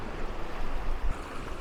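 Sea waves washing in around coastal rocks at dawn make a steady broad rush of surf, with a slightly heavier surge near the end and wind noise at the microphone.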